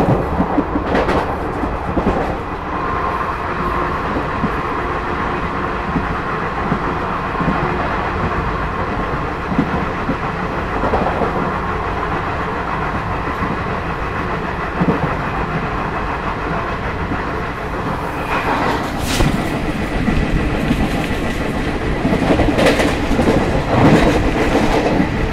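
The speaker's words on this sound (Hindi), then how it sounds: "तो ये देखा आपने शांति एक्सप्रेस का ओवरटेक" The Shanti Express passenger train overtaking on an Indian railway line, a long, loud rolling rumble with a rhythmic clickety-clack of wheels that swells and eases as the coaches pass close by.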